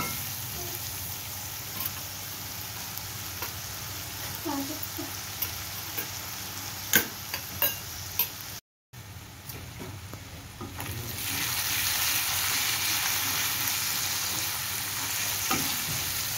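Garlic sautés in oil for a pav bhaji, a soft continuous sizzle with scattered ticks of stirring, briefly cut off, then returning louder and brighter with a fuller hiss.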